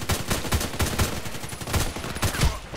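HK 417D assault rifle gunfire in a video game rings out as a rapid series of sharp, loud shots at an irregular pace, roughly a dozen bursts with punchy low thumps.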